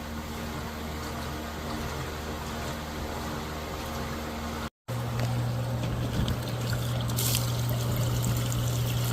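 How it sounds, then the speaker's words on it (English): A washing machine drain pump hums steadily as water gurgles and rushes through, briefly cutting out midway before resuming with a deeper drone. "Drain pump works good."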